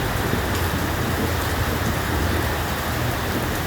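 Heavy rain pouring in a rainstorm outside a store, runoff streaming off the roof into the street: a dense, loud, unbroken roar of rainfall close by, with no voices.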